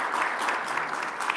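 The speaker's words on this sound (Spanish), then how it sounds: "Un aplauso." Audience applause at a business talk on corporate fraud in Nuevo León, a brief steady burst of clapping, moderately loud and even, with no voices over it.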